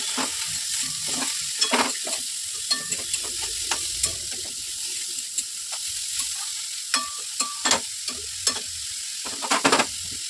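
Ridge gourd fries in a pan with onion and oil, giving a continuous close sizzle broken by regular scraping clicks as it is stirred, with no voices.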